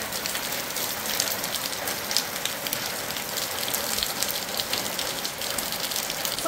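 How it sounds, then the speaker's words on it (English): Rain falls steadily during an outdoor shower in the Jamaican countryside near Mandeville, a dense, even hiss of drops striking surfaces, with no voices. "because I was taking a shower and it's raining"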